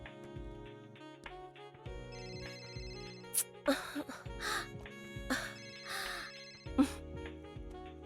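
A phone rings with an incoming call in a dubbed South Indian romantic action film scene, a tonal electronic ringtone repeating under background music, with brief gasps and a few clicks.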